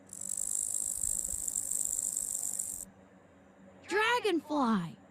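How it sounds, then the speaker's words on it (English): A grasshopper chirps in a steady, continuous high-pitched buzz for nearly three seconds before cutting off, followed by a brief spoken word. "Grasshopper."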